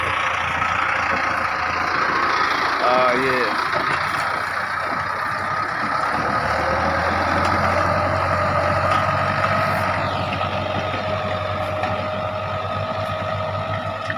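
A Mahindra Arjun tractor plowing a village field, its engine a steady low drone that runs without a break, with a brief spoken word early on.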